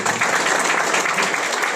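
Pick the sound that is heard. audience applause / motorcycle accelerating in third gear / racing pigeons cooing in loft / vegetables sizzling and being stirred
audience applause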